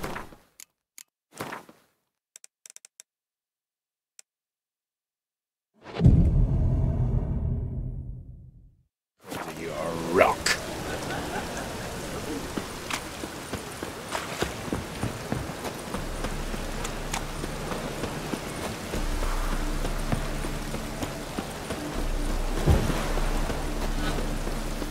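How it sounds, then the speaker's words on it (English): Heavy rain and rolling thunder in The Witcher 3: Wild Hunt, opening with sparse sounds, then a loud thunder crash that fades before a dense, continuous downpour with occasional sharper rumbles and swishes. "Looks like rain."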